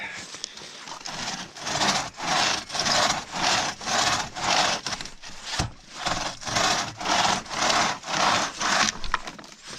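Hand saw working through a log on a trail, steady back-and-forth strokes in an even rhythm, loud and close, with a short pause midway before the sawing resumes.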